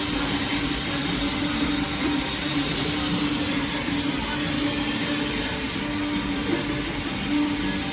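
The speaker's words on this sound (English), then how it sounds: "Now vacuum and pick it up." The vacuum on a camera calibration machine picks up a part, making a constant close mechanical hum with a steady tonal drone and a faint airy hiss and no talking.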